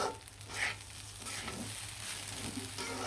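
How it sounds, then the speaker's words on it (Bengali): Rice and lentils frying and being stirred in a pan for khichuri, a soft continuous sizzle with faint scraping, close and quiet. "চাউলটা আর ডালটা কিন্তু আমি ভালো করে ভেজে নিব।"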